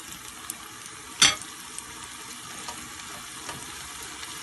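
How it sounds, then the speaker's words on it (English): Onion sizzles in a pan for a shrimp malai curry, a soft, steady crackling hiss with one sharp click of a utensil near the start. "I'm going to be frying the onion until it emits a nice smell, until it's sweated."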